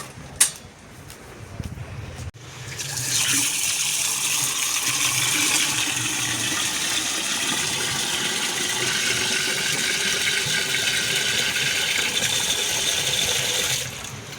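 Water gushes in a strong, steady stream into a container after a couple of brief clicks and knocks, running loudly and evenly for about eleven seconds before cutting off.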